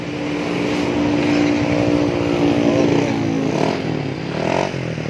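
Yamaha NMAX scooter engine running after an air filter replacement, a steady close idle with a rising rev near the end, loud and continuous without talk.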